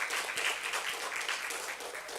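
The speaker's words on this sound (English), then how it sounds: "Let's give a special round of applause to our special guest musician" An audience at a fall equinox celebration applauds, a dense burst of clapping that holds steady and close for a couple of seconds with no talk over it.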